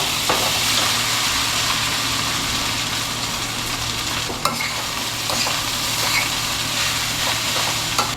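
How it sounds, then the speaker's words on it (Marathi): Shevai vermicelli sizzles steadily in a hot pan while being stirred and mixed, giving a continuous close frying hiss broken by occasional scraping clicks of a spoon against the pan. "चिक्क्या का चळया शेवय घाल सोडता आणि मिक्स करता"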